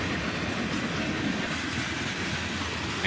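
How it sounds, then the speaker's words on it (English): CSX freight train boxcars, including a big blue boxcar and a worn old chassis boxcar, roll steadily past close by with continuous rumbling and clickety-clack wheel noise. "the tail end of this train passes by us"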